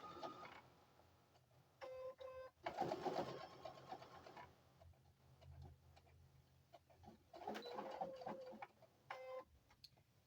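A sewing machine stitching a quilt runs in short bursts of rapid mechanical whirring and clicking, separated by quieter pauses, close but low in level.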